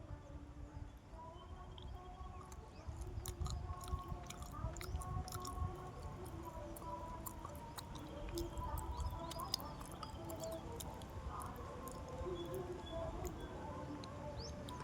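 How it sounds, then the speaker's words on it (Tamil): Someone chewing a bite of sattu urundai flour, repeated soft squishy mastication sounds close to the mouth, steady and quiet, with light clicks and faint background chirping throughout. "இந்த சத்துருண்டை மாவு வந்து நம்ம ஒரு கடி கடித்து அது எவ்வளோ நேரம் கழித்து நான் சவைச்சி உள்ளே போகிறேங்கிறத நம்ம பார்க்கலாமா?"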